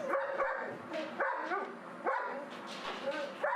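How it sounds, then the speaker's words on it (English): Several dogs bark in a loud, repeated rhythm, close by and nearly constant, with some yips mixed in. "Constant barking, especially this guy here."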